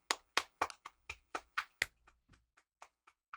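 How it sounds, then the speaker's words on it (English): Sharp hand slaps arrive in a quick irregular series, loud and close at first and then softer and sparser, with no talking over them. "you just clapped with one hand"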